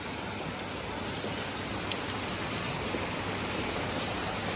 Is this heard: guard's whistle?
no